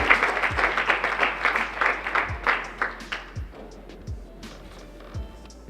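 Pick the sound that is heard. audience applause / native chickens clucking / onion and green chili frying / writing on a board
audience applause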